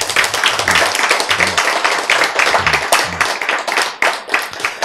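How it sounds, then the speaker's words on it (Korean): Audience applause in a Korean health lecture hall, dense steady clapping from many hands at close range, with a few voices under it. "박수."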